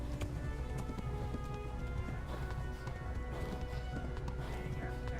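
Rapid hoofbeats of a galloping horse in Kingdom Come: Deliverance drum on under a dense, noisy game soundscape, steady and fairly loud throughout.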